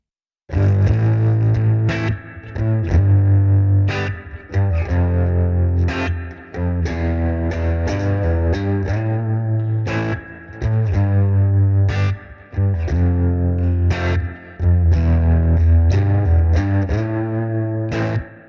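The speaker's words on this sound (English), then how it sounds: "this is really a kind of a sludgy tone that's really just lying underneath everything" Thick, sludgy distorted guitar amp tone with heavy low end, played in loud chugging phrases separated by brief pauses.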